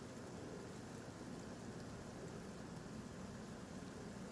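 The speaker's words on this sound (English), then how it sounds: "Yes, you hear the sound of rain, the ocean." Steady rain sound effect playing as ambience during a tabletop role-playing session, a constant faint hiss without breaks, with no talking.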